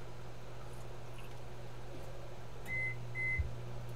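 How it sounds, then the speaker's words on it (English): A microwave oven hums steadily at a low pitch, then two short high beeps sound near the end. "Do it for like 1 minute in the microwave."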